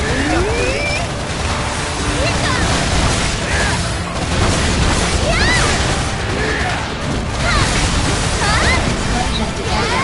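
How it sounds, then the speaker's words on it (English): Explosions in the video game Freedom Wars, blasting an enemy abductor: heavy booming, crashing bursts and debris under busy game audio with whistling sweeps, loud and continuous over about ten seconds, with voices speaking in the mix. "Explosion detected enemy abductor."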